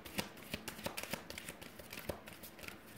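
Self-care cards being shuffled by hand, a quick rhythmic run of crisp riffling slaps close up, quiet and alone without talk.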